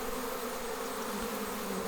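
Honeybee swarm buzzing steadily while the cluster is handled during a September swarm capture, a dense continuous hum with a faint, even level and no voices.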